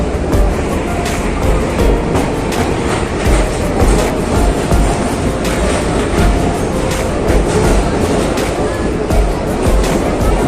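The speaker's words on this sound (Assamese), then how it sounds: "আমাৰ ট্ৰেইন সোমাই গ'লে কামাখ্যা জংচন।" A passenger train rumbles steadily along the rails near Kamakhya station, Guwahati, a loud continuous roar with rhythmic clacking throughout and no voices.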